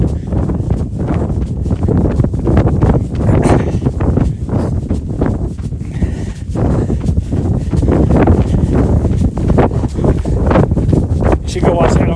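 Heavy wind buffeting the microphone in loud, rumbling gusts, continuous throughout, with a voice speaking underneath.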